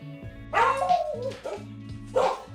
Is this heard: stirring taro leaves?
no